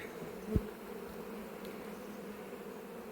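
Honeybees from a newly united colony in an apiary hum in a steady, low buzz, with one bee passing close for a moment before the drone settles back to a constant background.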